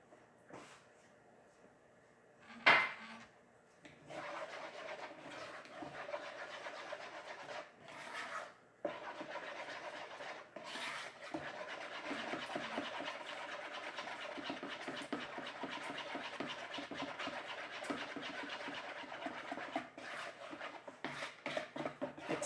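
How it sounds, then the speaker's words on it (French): Waffle batter being mixed with melted butter, an even, quiet scraping and swishing of a utensil in a bowl that starts after a few bumps and keeps a steady stirring rhythm. "C'est sûr qu'il faut très bien mélanger la préparation."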